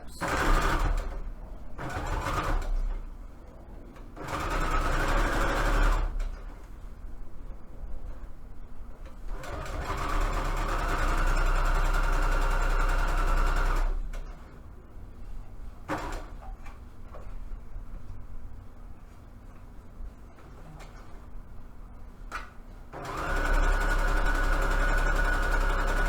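Sewing machine stitching a fabric quilt, running in several bursts of steady mechanical whirring separated by quieter pauses, moderately close and free of talk.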